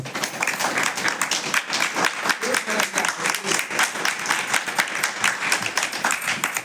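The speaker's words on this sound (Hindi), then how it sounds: "इनके लिए ज़बरदस्त ताली मैं बजाऊंगा" Sustained applause from a crowd of women and men, dense clapping that carries steadily at full strength from start to finish, with no voices rising above it.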